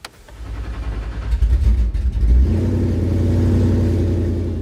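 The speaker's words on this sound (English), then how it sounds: "Start your engines." A competition car from a museum collection cranks and fires up loudly close by, its rough rumbling engine surging once in a brief rev before settling into a steady, heavy idle, with no talking.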